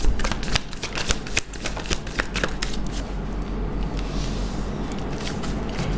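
Tarot deck being shuffled and cards drawn, a rapid crisp riffle of flicking card edges close up, loud at first then settling into softer sliding and shuffling, no talk.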